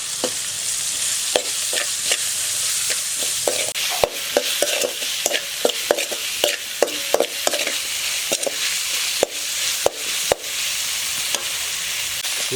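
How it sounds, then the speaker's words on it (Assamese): Chopped garlic, onion and chili fry in a wok, giving a constant loud sizzle broken by repeated sharp clanks and scrapes as a spatula stirs them. "কুটি লোৱা নহৰু, পিঁয়াজ আৰু জলকীয়া ভাজি লওঁ।"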